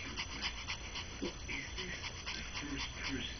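A Maltese dog guarding a piece of grapefruit pants and whimpers softly in steady short breaths, with faint background voices.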